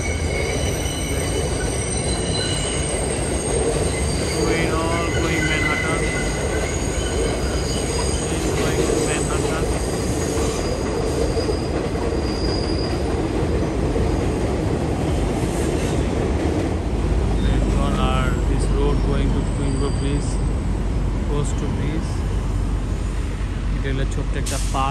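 A New York subway train passes at Queensboro Plaza, its loud, sustained rumble carrying squealing wheels and rail clatter for the whole stretch, close by and dominating the scene.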